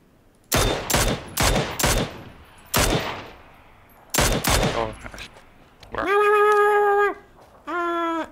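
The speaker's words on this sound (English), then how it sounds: "That was a gunshot in the blue." Gunfire in PUBG, several loud sharp shots spaced irregularly, some in quick pairs, followed by two sustained harmonic tones.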